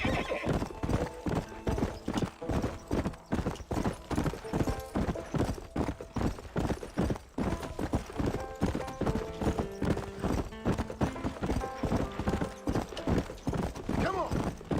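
A horse's hooves clip-clop at a quick gallop in the Western video game Red Dead Redemption, with repeated neighs and whinnies over the rhythmic beat.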